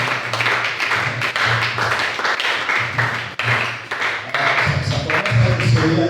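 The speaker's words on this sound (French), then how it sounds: "applaudissons pour la parole" A church audience applauds a sermon, steady crowd clapping with scattered taps that fills the whole stretch at a fairly loud, even level, with some voices mixed in toward the end.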